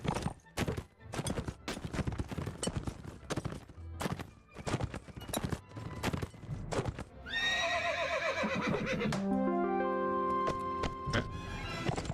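Horse neighing and whinnying in the Mount & Blade Warband video game, with clip-clopping hooves and thuds through much of the scene, then a long, loud, drawn-out whinny near the end.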